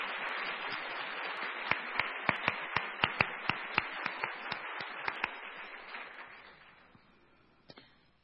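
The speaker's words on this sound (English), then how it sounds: "I think you all deserve a big round of applause." Audience applause at a committee event, a dense, steady clatter of many hands with a few sharp, prominent claps standing out, holding for several seconds before thinning and fading away near the end.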